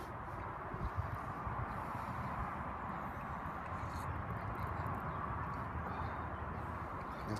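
A horse's hooves clip-clop steadily and continuously at a moderate distance over a constant noisy outdoor background, with no clear talk.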